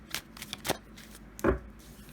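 A tarot deck being shuffled by hand, a few quick papery riffles and slaps spaced unevenly over two seconds, close and fairly quiet, with no talk.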